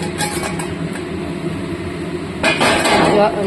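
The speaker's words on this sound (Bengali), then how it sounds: "এবার ঢাকাটা খুলে নিচ্ছি" Metal lid lifted off a cooking pot of Bengali rohu fish curry, a clattering metallic clink and scrape of pot and cover, louder bursts near the end over steady kitchen noise.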